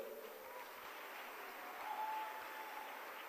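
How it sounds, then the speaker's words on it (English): Faint applause from a distant crowd of delegates at a conference closing ceremony, a soft, steady wash of clapping that swells slightly midway. "Delegates, please give yourself a big round of applause"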